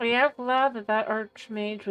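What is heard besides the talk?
No everyday noise stands out behind the speech.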